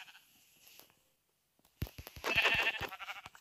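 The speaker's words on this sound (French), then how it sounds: "Quand vous voyez un mouton, hop, vous posez pas de questions." Sheep bleating in the video game Minecraft: after some quiet ambient noise, a near, loud wavering bleat or two arrive in the second half, alone without speech.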